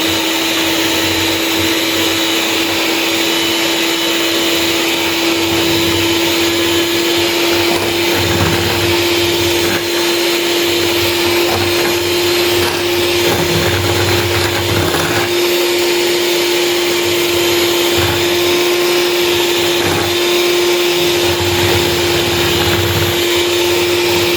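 An electric mixer beating flour and baking powder into a cake batter, a loud, steady motor whine that runs unbroken throughout with a constant hum and slight rattle, and no voices.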